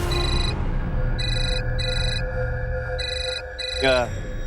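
An electronic phone ringtone sounds in repeated short bursts over a low background hum, ending with a quick rising chirp.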